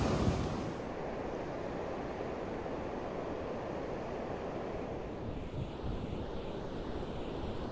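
Steady broadband roar of ocean surf on a remote stretch of beach near Cape Meares on the Oregon coast, continuous and fairly loud throughout, with wind buffeting the microphone and no talking.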